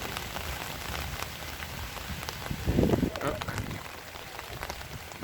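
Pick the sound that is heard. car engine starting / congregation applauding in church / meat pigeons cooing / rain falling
rain falling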